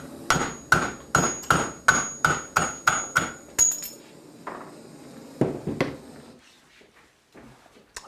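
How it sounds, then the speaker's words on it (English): A hammer strikes a Larsen diopter mount on the barrel of an Izhmash rifle, knocking it loose: about ten sharp metallic blows in a quick steady rhythm, close and loud, then a few scattered softer knocks and handling sounds before quiet. "Use some heat to break the glue and then kick it off with a hammer"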